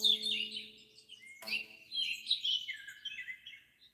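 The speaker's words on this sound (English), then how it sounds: "It is a real bird sound effect." Synthetic birdsong from a Roland GM-800 guitar synthesizer: bright, repeated chirps and warbling tweets, moderately loud and close, with a brief sharp burst midway and no talking.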